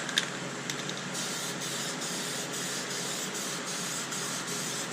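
Aerosol spray paint hissing steadily onto car interior plastic, a continuous close spray with brief pulses at the start and no talking.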